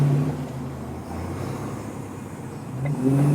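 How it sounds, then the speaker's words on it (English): A Ford Capri rolls past at a car meet, its engine a low, rough rumble that builds toward the end, nearby and fairly loud with no talk over it. "Really cool Capri rolling past. sounds pretty leery."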